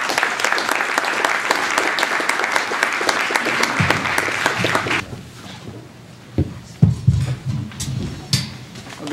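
An audience welcomes Senator Chris Coons to a keynote with sustained, dense applause that runs for several seconds and then thins into scattered clapping, with a voice starting to speak underneath.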